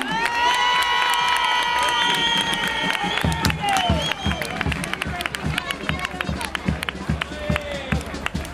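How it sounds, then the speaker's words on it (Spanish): A carnival crowd in San Pedro Alcántara cheers and whoops for a chirigota group, children shouting and people clapping loudly, with a dense roar giving way to sharp rhythmic claps and scattered calls. "¡Un aplauso a los Frankenstein!"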